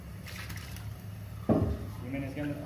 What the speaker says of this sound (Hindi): 8 लीटर पानी इसके अंदर मैं ऐड कर देता हूँ।